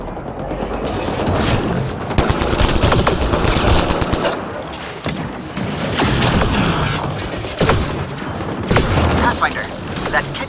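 Heavy gunfire in a Mass Effect Andromeda firefight: rapid bursts and booming shots crackle continuously and loudly, with shouted voices mixed into the chaotic battle din.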